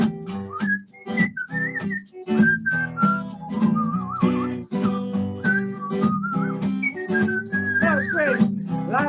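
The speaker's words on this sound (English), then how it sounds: "You want to whistle?" A person whistling a lively tune on a show, clear melodic phrases with quick pitch slides and trills, close and prominent over soft accompanying sound.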